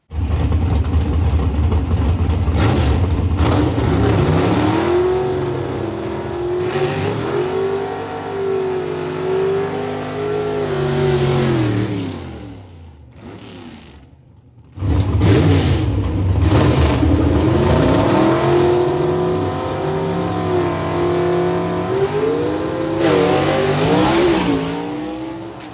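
A 1941 Willys gasser with a big block Chevy under its flip front end and an old-school bread box tunnel ram revs hard at a Southeast Gassers Association event, loud rising and falling roars through gear changes, with a brief drop midway.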